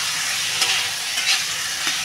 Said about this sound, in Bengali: এবার মাংসটা ভালো করে কষাবো বন্ধুরা।